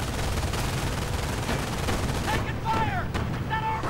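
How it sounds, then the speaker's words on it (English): Video game battle with MG42 machine gun fire and an armored car's autocannon hitting a Panzer, dense rattling bursts and booms filling the scene under a commentator's voice. "MG42 firing away, but of course it can't actually penetrate the armor of the Panzer B-Wagen"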